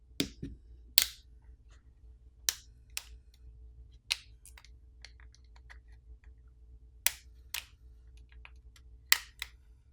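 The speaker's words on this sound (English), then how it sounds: "we're going to run it along the edges and pop off the catches" A plastic pry tool pops the plastic back housing catches loose from the frame of a Vivo V21e 5G phone, giving about eight sharp, close clicks spaced irregularly over a quiet background.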